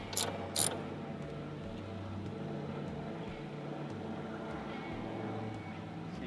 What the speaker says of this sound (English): We'll take a 13mm ratchet.